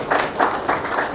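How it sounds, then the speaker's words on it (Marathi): A short burst of applause for health workers at a Ratnagiri gathering: a few evenly spaced claps heard close, without speech. "सगळ्यांकडनं आपल्या सहकार्याकडे टाळ्या घ्याव्या"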